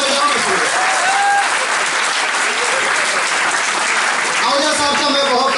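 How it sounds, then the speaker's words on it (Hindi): An audience at a poetry recital claps loudly and steadily throughout, a dense continuous wash of applause with faint voices mixed in. "तालियां बजाओ।"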